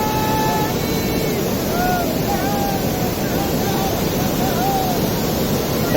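Thottikallu waterfall rushes with a loud, steady roar of falling water that fills the whole stretch, with faint chirps above it.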